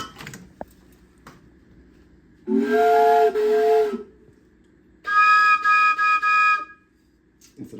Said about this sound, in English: Two different train whistles.